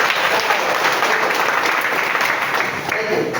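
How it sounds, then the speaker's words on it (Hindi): A crowd at a network marketing seminar claps together for themselves, a thick, even patter of many hands lasting a few seconds, with a voice briefly audible over it. "एक बार ताली अपने लिए बजा लीजिए"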